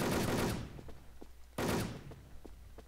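Two loud gunshot bursts from the online shooter Wolf Team, one at the start and another about halfway through, each fading into a short tail of faint game thuds and clicks.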